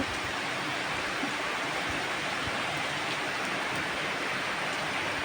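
Rain falls steadily outdoors, making a continuous, even hiss with no pauses and no voices.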